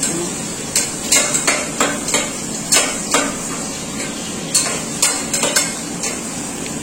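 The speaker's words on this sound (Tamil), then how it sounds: "வெங்காயம் பொன்னிறமாக வதக்க வேண்டும்." Sliced onions being sautéed until golden in a pan for home-cooked chicken biryani, heard as repeated metal spatula scrapes and taps against the pan over a soft steady sizzle, with no talking.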